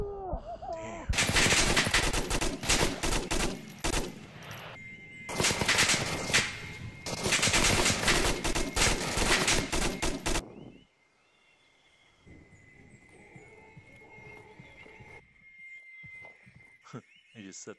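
Enemy gunfire in the VR shooter Onward: several long, loud bursts of rapid automatic fire broken by short pauses, followed by a quieter stretch with faint distant shots and some talk.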